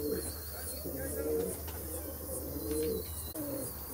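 Pigeons kept as pet birds in Veria, Greece, coo softly and steadily through a constant background hum, with scattered faint chirps and no one speaking.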